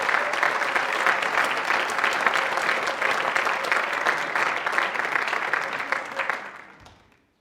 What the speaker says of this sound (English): Give them all, please, ladies and gentlemen, a huge round of applause.